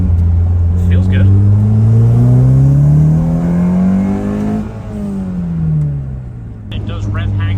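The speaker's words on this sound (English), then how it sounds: "It does rev hang a little bit, but like Mark said, it makes the engine quite a bit smoother." Honda CRX engine revving with a hydro transmission conversion, the pitch climbing steadily for several seconds and then falling back as revs hang and slowly drop, with brief voices near the start and end.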